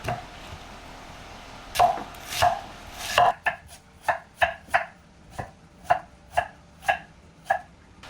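Onions chopped with a knife on a cutting board, a few slower cuts and then a steady run of about ten crisp, evenly spaced knocks, close and clear with no talking.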